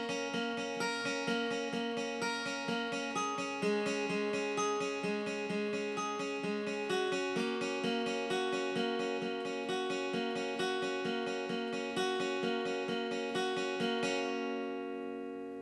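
A guitar in standard tuning plays a steady, repeating riff of quick plucked notes with a rolling rhythm, clear and moderately loud, ending with a ringing chord.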